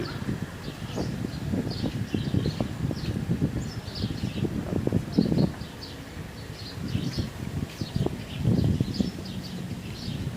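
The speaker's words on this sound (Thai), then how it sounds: "ได้ยินเสียงลมครับ ลมแห้งๆครับ" Dry evening wind blowing outdoors along a riverside path, a steady rushing bed with low gusty buffeting on the microphone, faint bird chirps scattered above.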